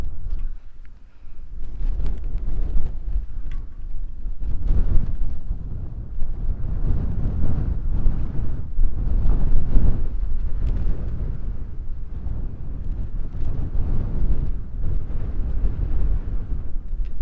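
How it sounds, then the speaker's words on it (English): Strong wind outdoors on an African safari buffeting the microphone, a loud continuous low roar with gusty swells throughout. "So in windy conditions like this"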